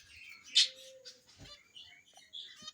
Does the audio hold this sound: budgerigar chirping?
yes